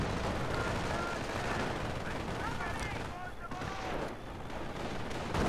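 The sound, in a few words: LMG 42 machine gun firing in Company of Heroes 2 video game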